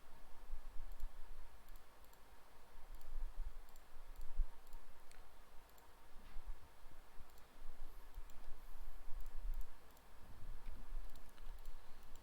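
Sparse, faint computer mouse clicks come at irregular intervals over a low steady hum, with no voices.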